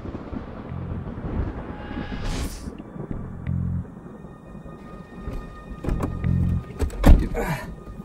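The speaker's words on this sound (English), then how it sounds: "Fucking rain." Steady rain in a stormy game scene, with rumbles of thunder and scattered effects, holding at a moderate level throughout with a sharper burst near the end.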